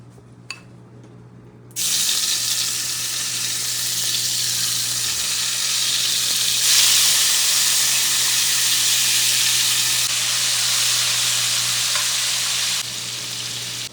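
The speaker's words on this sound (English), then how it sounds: "we put all the squirrel in the bowl, mix it around, now we're about to throw it in the skillet" Seasoned squirrel meat hits a hot skillet, a loud continuous sizzle bursting in after a brief quiet moment and holding steady to the end, with a low hum underneath.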